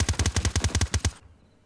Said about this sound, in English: Zeqot shooting a little bit early.